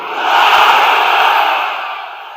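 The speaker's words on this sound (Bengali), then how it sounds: "আওয়াজ তুলে তাকবীর পড়েন, লিল্লাহে তাকবীর" A large crowd loudly chants the takbir in unison, a single sustained roar of many voices that swells and then slowly fades.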